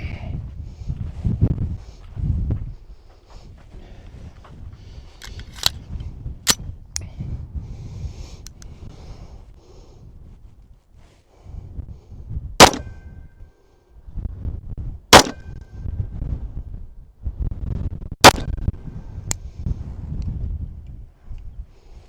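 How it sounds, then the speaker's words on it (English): A Tisas Stakeout 1911 pistol fires 9mm rounds outdoors: three sharp, loud single shots spaced a few seconds apart, plus some earlier fainter cracks, over rumbling wind and handling noise. "I'll fire 3 shots of 9 at this one."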